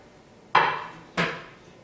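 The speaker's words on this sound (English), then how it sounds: "After cutting it into small pieces, I'll add it into a pot." Cut papaya pieces drop into a cooking pot with two sharp, close knocks and thuds, each ringing out briefly before fading.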